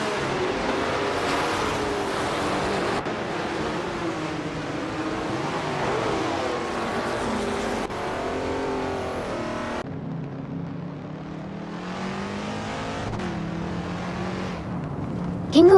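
Race cars in a racing video game drone continuously, with engine pitch rising and falling through gear changes and overtakes, and no talking.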